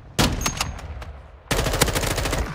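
Gunfire in a video game shooter, two loud bursts of rapid shots, the first with a few scattered follow-up cracks, the second a dense rattling string of shots close up.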